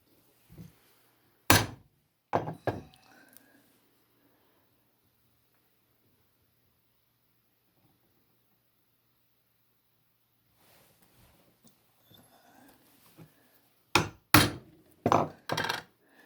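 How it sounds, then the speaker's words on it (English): A wooden chair maker's chisel set down firmly onto wood, two or three close, solid knocks at the start, a long quiet stretch, then another cluster of sharp thunks near the end. "I'm putting quite a bit of down pressure on this chisel when I set it down"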